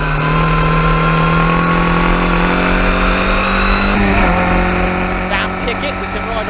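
Historic Formula Ford race cars, including Merlin Mk20s, race at Silverstone, their engines a loud, continuous buzzing drone with shifting pitches as cars pass and change gear, under commentary.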